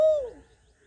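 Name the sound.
Asian koel calling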